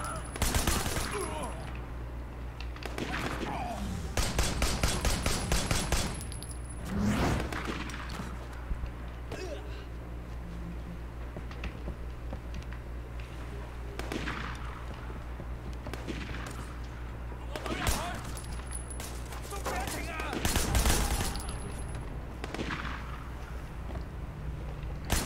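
Gunfire rings out in the video game Sleeping Dogs, Year of the Snake DLC: a rapid burst of automatic fire followed by scattered sharp single shots and another loud volley later, with quieter game ambience between.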